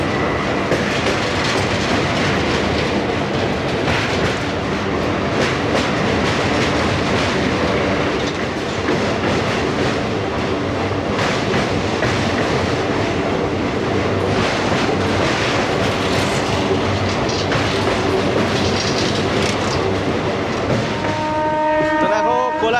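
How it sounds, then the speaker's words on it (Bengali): An express train crosses the Kolaghat bridge with a loud, continuous rumble and clatter of wheels on rails, a horn sounding toward the end, heard from aboard another train. "আর দেখো ওই দিকের ব্রিজ দিয়েও একটা এক্সপ্রেস যাচ্ছে"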